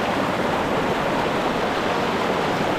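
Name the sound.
fast-flowing mountain river water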